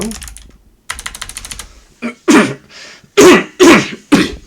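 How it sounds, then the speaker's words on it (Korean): A series of four or five sharp, forceful coughs, close to the microphone, following a stretch of quieter clicking and rustling. "마이크를 끄고 기침을 해야 되는데"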